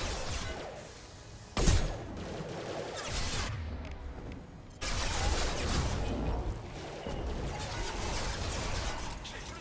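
Gunfire and combat effects in the video game Mass Effect 2, with a sharp loud blast near the start followed by dense, continuous bursts of shooting and impacts at moderate loudness, shifting in intensity partway through.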